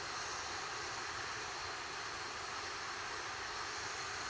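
An Atlas V rocket with its RD-180 engine during launch, heard as a continuous, dense roaring rush that stays loud and even throughout, with no talk.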